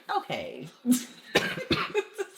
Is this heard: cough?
yes